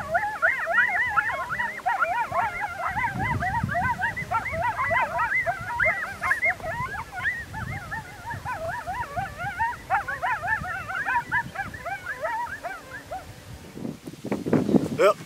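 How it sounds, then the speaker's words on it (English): A group of coyotes howls and yips continuously across the night in West Texas, a dense chorus of rising and falling wavering cries. It carries on at steady strength and fades near the end into lower rumbling noise. "These other coyotes have moved in towards our howling too."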